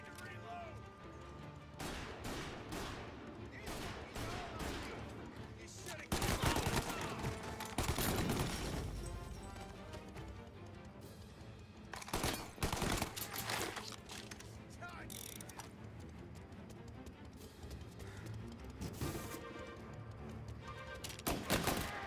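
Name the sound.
gunfire in the video game Mafia: Definitive Edition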